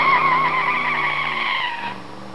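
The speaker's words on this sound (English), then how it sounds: "They're sending their fastest car to pick me up." A fast car skids in with a loud, sustained tire squeal over engine whine that holds steady, then fades and drops off near the end, with no talking.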